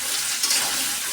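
Vegetables sizzle in hot oil in a home kitchen, a brief, even crackling hiss with a slight swell partway through.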